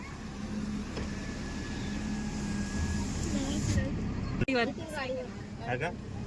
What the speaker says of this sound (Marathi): हा चला गाडी निघाली